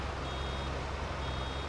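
In Farming Simulator 22, a bale maker's fill warning beeps as a steady high electronic tone over a low, continuous tractor engine rumble, fairly quiet and without voices.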